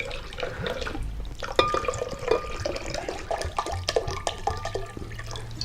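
Spring water pours and splashes into a container, a steady close liquid gurgle with small drips and clinks throughout.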